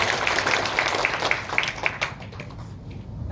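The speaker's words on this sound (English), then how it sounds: "So big round of applause for this." A crowd at a Proveda product sales presentation in India gives a round of applause, a dense, steady wash of many hands clapping that thins out toward the end.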